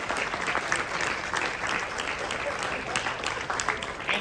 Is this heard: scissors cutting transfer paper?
no